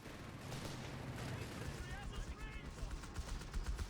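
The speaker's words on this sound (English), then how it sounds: "Heavy machine gun covering the flank here." Heavy machine gun fire in the World War II strategy game Company of Heroes 3, with dense rattling bursts and distant battle booms running steadily throughout, partly under a commentator's voice.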